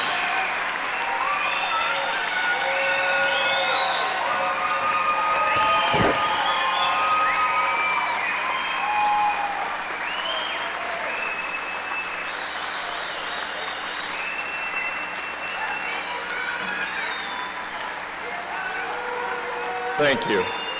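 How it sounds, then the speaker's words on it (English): Graduation audience at a 2021 school commencement gives sustained applause mixed with cheering and a few whoops, a dense, steady roar of clapping lasting throughout with scattered shouts. "can we give all the graduates another round of applause?"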